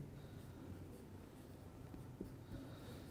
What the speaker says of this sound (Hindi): मैं यहाँ पे लिख देता हूँ कि